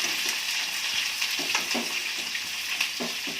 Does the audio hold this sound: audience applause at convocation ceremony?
no